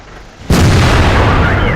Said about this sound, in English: Nice shot into the flat side of a ARL